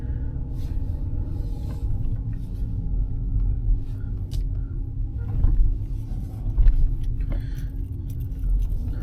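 A 1995 Mercedes-Benz on a test drive gives a steady low road rumble with engine drone throughout, plus light rattles and small clicks inside the cabin, and no one talks.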